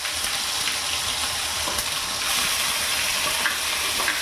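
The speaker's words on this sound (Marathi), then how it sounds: "आम्ही कमी तेल आपलं गरम झालं आहे. जिरा टाकते. जिरा तरतरला आहे." Cumin seeds sizzle and crackle in a small amount of hot oil in a pan for a Marathi curry, a continuous, close hiss with scattered pops.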